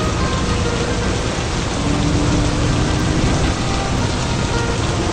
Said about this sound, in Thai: ตอนนี้ฝนก็ตกนะครับคนดู